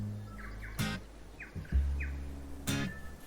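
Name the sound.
birds singing in a train set simulator video game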